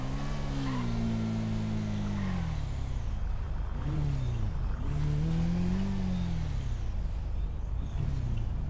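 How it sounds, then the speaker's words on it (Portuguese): Car engine in the video game GTA 5 revs up and down in loud, continuous surges, with the pitch rising and falling throughout and no voices over it. "tem barulho de carro"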